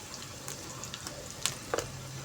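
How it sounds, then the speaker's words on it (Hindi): Onions frying gently in ghee in a pan, a quiet, steady sizzle with a few soft crackles and faint stirring clicks, close and fairly low in level. "अब प्याज भी हमारा हल्का हल्का सा फ्राई होना शुरू हो चुका है"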